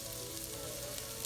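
Squash frying in melting butter in a pan, a dense steady sizzle and crackle, close and even throughout.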